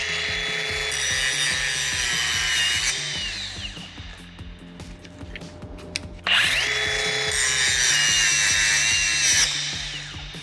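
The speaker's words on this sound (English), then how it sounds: "Let me show you how this works by grinding on this number 8 rebar." Angle grinder biting into number 8 steel rebar, a loud bright screaming grind that cuts out for a few seconds in the middle, then resumes just as harsh until it eases off at the end.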